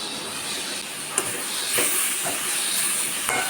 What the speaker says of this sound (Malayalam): ഇത് അടച്ച് വെച്ച് ആവിയിൽ വേവിച്ചെടുക്കണം